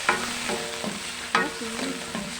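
Pork liver goes into a hot frying pan with mixed vegetables and sizzles steadily. A few sharp clinks and scrapes of stirring sound close by.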